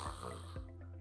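A person imitates heavy snoring with their voice, two rough snorts followed by strained, blocked breathing that mimics an apnea pause, close and loud with no talking.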